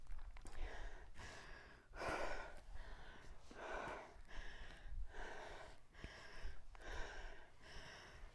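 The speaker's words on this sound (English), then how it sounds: "Right now we're all just trying to breathe" Heavy, rhythmic breathing during a lower body workout, with about eight loud, close, gasping breaths in and out at a steady pace.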